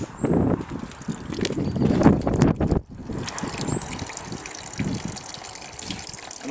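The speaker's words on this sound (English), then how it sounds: "this is just putting the hose in the top and letting it come out the bottom" Water from a garden hose pours into the top of a Suzuki Hayabusa motorcycle's coolant system and gushes out the bottom, a loud continuous splashing that dips briefly midway, close by with no speech.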